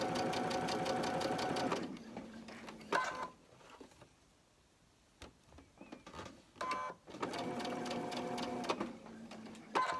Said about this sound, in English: So you just want to go along and sew all of these corner blocks onto your block.